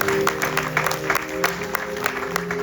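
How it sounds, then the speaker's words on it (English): Audience clapping at a Ganesh Chaturthi Utsav gathering, a steady dense patter of many hands with a few sharper claps standing out, continuing through the whole stretch. "Clap again for us."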